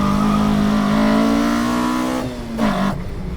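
A Toyota Corolla FX16 with a 1.6-litre naturally aspirated engine pulls hard under acceleration, its loud engine note climbing steadily before a brief dip and another rise as it shifts.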